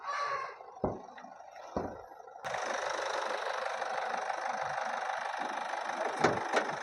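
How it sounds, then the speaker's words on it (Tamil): A few sharp knocks and clunks, then a Honda City diesel engine starts and settles into a steady, loud rattling idle close by. "இன்ஜின் நம்ம ஸ்டார்ட் பண்ணியாச்சு வாங்க நாய்ஸ் எப்படி இருக்குன்னு பார்த்துக்கலாம்"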